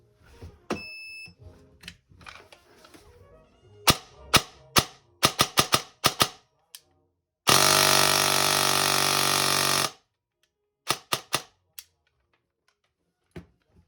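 Rapid bursts of airsoft gunfire at 50 rounds per second, first in short quick strings of shots, then a continuous full-auto stream lasting a couple of seconds, followed by a few single shots.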